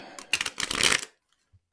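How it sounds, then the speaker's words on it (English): Tarot cards shuffled by hand: a quick, crisp riffling burst of about a second, close and clear, followed by near silence. "Let me shuffle one more time."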